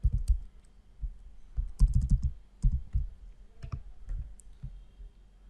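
Irregular clusters of crisp clicks from typing on a computer keyboard, close and fairly loud, with short pauses between bursts and no talking.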